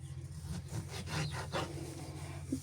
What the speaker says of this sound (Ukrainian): Беремо наше м'ясе і ріжемо такими невеличкими шматочками.